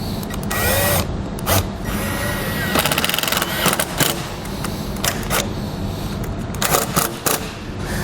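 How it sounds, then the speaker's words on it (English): Power drill whirring in short bursts as it drives a self-tapping screw into the metal housing of a 2017 Chevrolet while fitting trailer wiring, close and fairly loud, with a few sharp clicks. "I'm going to go ahead and ground my wire with my self-tapping screw."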